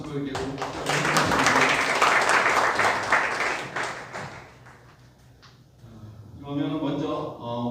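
Applause from an audience at a Democratic Party core members' meeting in Jeju, a dense burst of clapping for several seconds that thins out, then rises again as a voice talks over the end.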